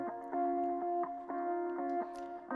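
A rhythm part from a software instrument in FL Studio plays steady repeated plucked chords with an echoey, effected tone at moderate volume, with no voices over it.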